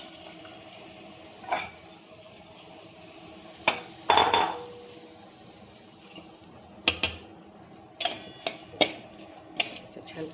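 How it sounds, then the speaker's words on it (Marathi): Jaggery melting into syrup in a pan for finger millet ladoos, a low bubbling sizzle under repeated metallic clinks and scrapes of a spoon against the pan, irregular and close, with no talking. "आता याच्यात मी गूळ टाकते. त्याचा छान पाक तयार करून घेऊ."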